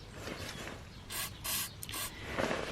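Short bursts of aerosol penetrating spray aimed at a stuck nut on a Subaru Impreza STI rear sway bar, four close hissing blasts of about a quarter second each, the middle one longest, over a quiet workshop background.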